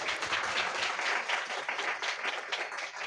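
Church congregation clapping loudly and steadily during a Sunday worship service, a dense, continuous wash of many hands with no gaps, close and full throughout.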